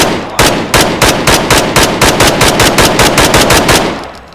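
A rapid automatic gun in a video game fires loud, evenly spaced shots in one sustained burst of roughly twenty rounds, close and alone.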